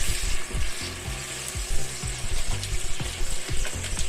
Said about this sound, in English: I'm going to add that stock in and let that bubble through.